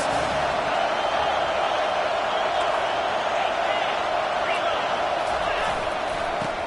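A stadium crowd in a Georgia versus Missouri college football video game keeps up a continuous, even roar of cheering, a broad wash of noise with no clear peaks.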